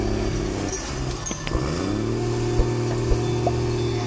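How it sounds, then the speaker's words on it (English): A tracked vehicle's engine labours steadily while dragging a large log through soft soil and fallen stumps in woodland, a continuous low drone with a few faint knocks and clicks on top. "The tracks on the vehicle spun steadily, leaving deep tracks in the ground, showing the power and effort of the machine."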